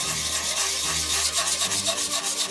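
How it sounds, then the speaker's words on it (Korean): Sandpaper rubs over hardened wood putty filling holes in wood, a loud close scratchy swishing in quick repeated back-and-forth strokes, with no voices. "굳은 뒤 사포로 가볍게 갈아주면 끝이죠"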